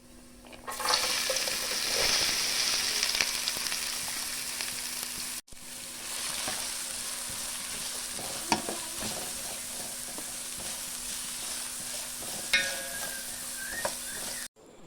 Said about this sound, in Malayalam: അതിലേക്ക് നമുക്ക് ഉള്ളിയിട്ടിട്ട് നന്നായിട്ടൊന്ന് വഴറ്റിയെടുക്കാം